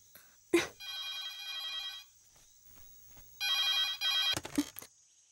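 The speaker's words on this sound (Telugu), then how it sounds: "హలో ఆ శాలు, ఈ టైం లో ఫోన్ చేసావ్?" A telephone rings in two clear electronic bursts, the first near the start and the second later, with knocks and clatter before and after each and no speech.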